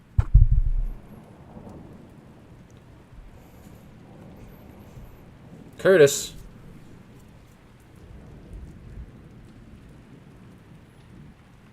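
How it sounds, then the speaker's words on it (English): Rain and a thunderstorm in the video game Rain World: a low rumble opens, a sharp crack of thunder follows mid-way, then faint steady rain, with a voice speaking briefly. "you hear the rain go down. And now it's just like a silent thunderstorm"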